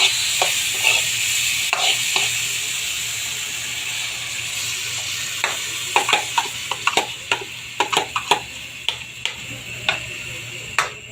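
Tilapia in sweet and sour sauce being stirred in a pan over a quiet simmer hiss, the spoon knocking and scraping against the pan in quick irregular clicks that grow more frequent in the second half.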